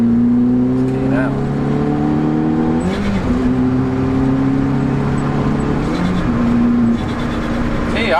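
A turbocharged C2 car engine revs hard and pulls through the gears on boost, its loud steady drone rising in pitch, then dropping briefly at each shift around three and six seconds, heard from inside the car.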